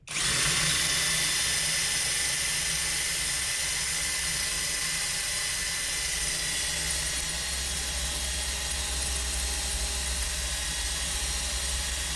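A cheap Temu drill bit of about 4.3 mm, looking burnt, drills steadily under heavy pressure, making one continuous loud whine with a hissing edge that runs the whole length, with no talk.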